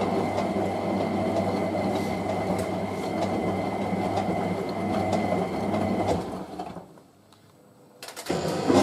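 A Hotpoint 9530W Electronic 1000 Plus washing machine spins during a rinse cycle with a steady loud whirring hum and rattle, then winds down to near silence before the drum starts up again.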